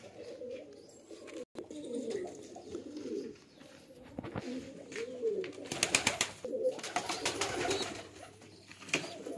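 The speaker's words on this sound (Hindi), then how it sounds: "आज कबूतर हमने बाहर निकाले है" Pigeons coo softly and repeatedly at close range, with a few sharper fluttering bursts and chirps mixed in; no voices.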